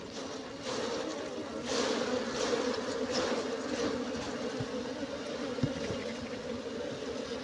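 A steady, droning buzz of many honey bees at a hive during inspection, continuous and moderately loud, with a constant hum filling the background.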